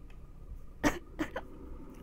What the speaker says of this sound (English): that's a pathetic cough